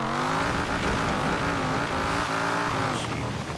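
An Eleanor 1968 Mustang GT slides across snow in Forza Horizon 4, its engine a loud, steady droning roar with a faint tire squeal running the whole time.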